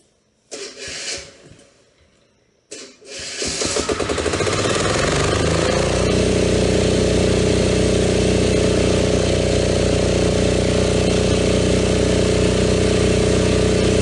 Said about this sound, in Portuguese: Gerador ligado, fazendo um pouco de barulho aqui agora.